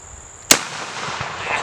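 A shotgun fitted with a prototype recoil-reducing stock fires a 3-inch double-aught buckshot shell: one sudden, loud blast after a quiet lead-in, then a short fading tail.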